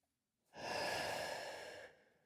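A single slow, relaxed breath, close and clear, swelling smoothly and holding steady for over a second before easing off, with no talking around it.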